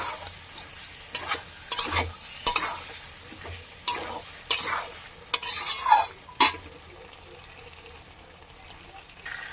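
Pre-fried potatoes tipped into a hot pan and stirred, with bursts of sizzling and spatula scrapes coming in irregular clusters between quieter gaps, close and alone.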